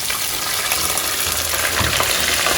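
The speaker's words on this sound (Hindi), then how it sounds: "इसमें थोड़ा सा पानी डालूंगी ताकि ये जले ना और ज़्यादा" A steady, close rush of water being poured into a pan of cooking chicken, a continuous splashing gush with a faint sizzle beneath it.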